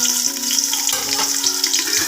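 Onion frying in hot ghee and oil for dum biryani gives a loud, steady sizzle that fills the whole clip, with a scrape of stirring partway through.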